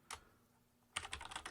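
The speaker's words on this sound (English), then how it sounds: "I'm just typing in some gobbledygook to give us some context here so you can see kind of what it might look like" Quick keystrokes clatter on a computer keyboard in a short opening tap, then a dense run of typing after a brief pause, close and fairly quiet.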